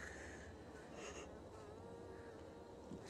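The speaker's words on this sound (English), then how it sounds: "Ooh, there's a bee." A bee buzzes steadily and faintly for a few seconds, a continuous droning hum in a quiet setting with no talking.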